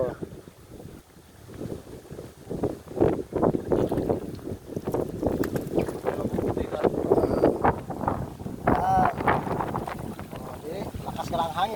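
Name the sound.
strong wind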